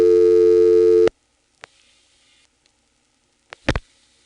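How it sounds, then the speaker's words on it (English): A rotary dial phone dials 49 on a step-by-step telephone exchange: a loud steady dial tone cuts off, then sparse clicks and a short burst of clattering relay pulses follow in a quiet room. "Now let's do that again. I'm going to pick up a rotary dial phone,"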